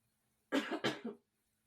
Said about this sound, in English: Sorry, I just had a toke, so now I'm coughing.